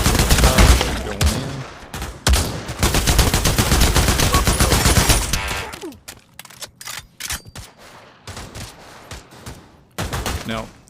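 Rapid bursts of automatic gunfire ring out in a virtual reality Call of Duty shooting game, dense volleys for several seconds, then sparser separate shots with pauses between them.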